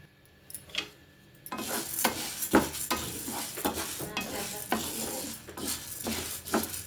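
Black gram (minapa) dals being stirred and fried in a pan, with a close, steady sizzle and repeated scraping strokes of a spoon against the metal after a quieter opening second.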